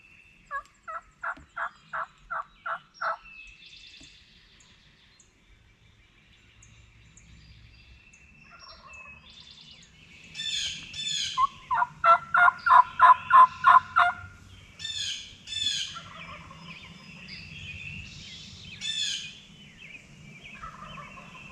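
Wild turkey gobblers sound off repeatedly in an Ohio spring woods, rapid rattling gobbles coming in bursts, some fairly close and loud, others fainter, over a quiet outdoor background.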